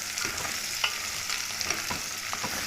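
Onions frying soft in oil for an old-style fava bean dish, a dense close sizzle with light scraping stirs throughout, no talking.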